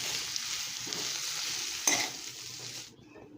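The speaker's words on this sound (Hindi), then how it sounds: "तो इसमें मैं अभी डाल दूँगा। अभी इसको अच्छे तरीके से मिला लीजिए।" Chopped pumpkin leaves sizzle steadily in a hot pan while being stirred, with a sharper clack of the utensil near the end before the frying fades out.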